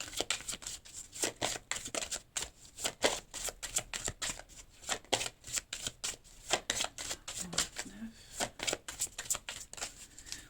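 Tarot cards are shuffled and drawn in a steady run of crisp riffling and flicking bursts, close and fairly loud, filling the whole stretch with no voice over them.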